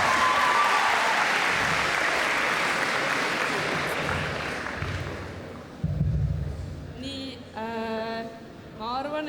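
Audience applause at a ball's host and hostess contest, loud dense clapping for about five seconds that thins and fades, followed by scattered thumps and a voice speaking near the end.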